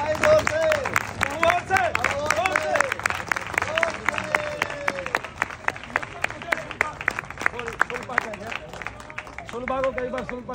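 An audience claps at a gathering, a continuous burst of applause with dense, steady hand claps lasting throughout, a voice speaking over it at times.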